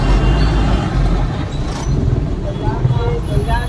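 Busy road traffic with cars and buses, a steady low rumble of engines passing close by under ongoing speech.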